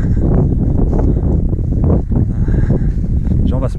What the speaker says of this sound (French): il y a un peu de vent évidemment